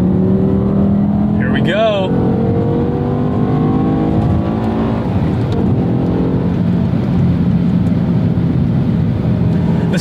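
A 2007 BMW M5 E60 with a V10 engine accelerates hard, the engine note rising steadily and staying loud throughout, with a brief spoken remark near the start.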